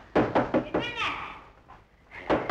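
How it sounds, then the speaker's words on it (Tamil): Someone knocking on a house door: a quick series of sharp, close raps, then a pause while a voice speaks, then one more knock near the end. "என் பொண்டாட்டி கதவு தட்டுறா"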